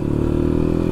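A motorcycle engine runs at a steady idle or low cruise, a close, continuous droning hum with a faint rattle over one second and no voices.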